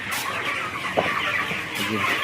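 Several broiler chickens cluck softly in a steady noisy background, with a brief louder squawk near the middle; no talking.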